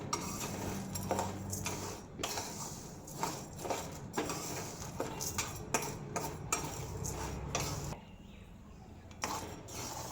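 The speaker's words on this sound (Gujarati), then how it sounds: "ધીમા ગેસ ઉપર આપણે એને શેકી લઈશું." Dal roasts in a pan over a low gas flame, heard as close, repeated scraping and clinking of a utensil against the metal with a low hiss underneath.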